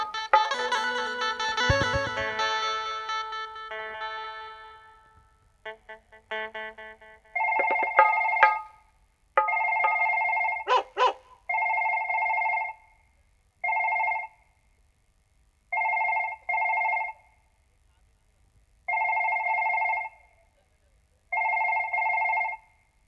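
During a Mithila folk dance-drama performance, a burst of loud music and some clatter gives way to a phone ringing repeatedly in steady, evenly spaced electronic trills that continue alone to the end.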